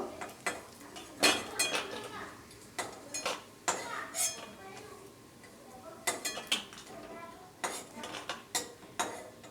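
Fried lentil pakoras lifted from a pan of oil, with repeated sharp metal utensil clinks and scrapes against the pan in irregular bursts, close and fairly loud over a faint background.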